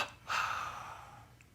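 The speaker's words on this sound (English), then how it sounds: "Exhaling, relax." A single deep, breathy exhale during a guided meditation, rising sharply and then trailing off slowly, close and clear with no talking.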